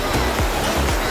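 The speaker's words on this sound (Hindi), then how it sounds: "झरना बह रहा है" A waterfall near a mountain temple at Vaishno Devi rushes in a loud, continuous broadband roar of flowing water, close and steady.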